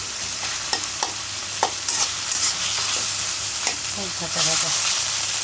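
Garlic paste frying in hot oil, sizzling steadily and spattering, with sharp clicks and scrapes from stirring that come at irregular moments, close and moderately loud.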